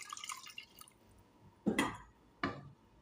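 Water is added to rice in a cooking pot, heard as a few sharp splashes and drips, with two distinct bursts after a quieter stretch of faint clinks and sizzle.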